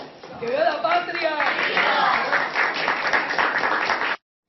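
An audience at a Venezuelan political event applauds with steady, sustained clapping at moderate volume, which stops abruptly near the end.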